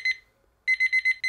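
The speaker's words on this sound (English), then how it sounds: "it will literally make this sound" A desk alarm clock rings with rapid, piercing electronic beeps, one short burst followed by a pause and then a fast repeating run of four or five beeps, loud and close.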